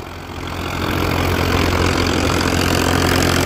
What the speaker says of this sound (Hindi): एक नंबर रूटावेटर है केएसडी का किसी भी गियर में चलाओ नो टेंशन